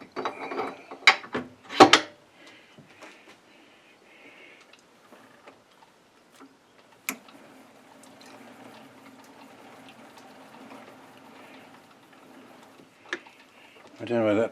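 A metal lathe spindle is turned by hand with the spindle handle while cutting a thread, giving a faint ratcheting, gear-like clicking with a few sharper knocks, heard close and quiet.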